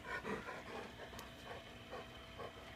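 A dog pants in steady, rhythmic breaths with soft whimpers mixed in, faint and close, in a quiet room with a steady background hum and no talking.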